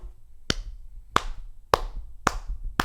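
Five slow, sharp handclaps from a single person, spaced about half a second apart, loud and close with no talking between them.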